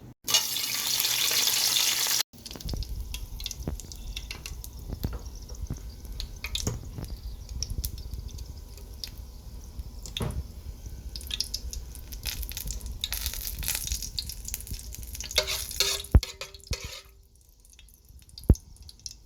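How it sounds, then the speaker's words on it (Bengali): Soybean oil and ghee heat in a pot on the stove, a brief loud hiss at the start, then quieter crackling, spattering drips and faint clinks that fade toward the end, close by with no speech. "এখন এখানে দিয়ে দিব সয়াবিন তেল আর পরিমাণ মতো ঘি"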